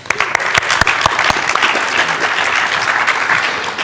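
Steady round of applause from an audience at a Linux Australia annual general meeting, dense clapping starting with a few sharp claps and holding loud and even for several seconds.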